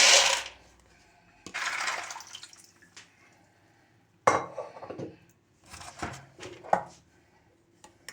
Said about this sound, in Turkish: Nohutumu koyuyorum.